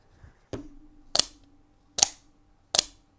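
An OTF knife blade fires out and retracts with sharp, loud mechanical snaps, four crisp clicks spaced roughly evenly, close and isolated with no talking.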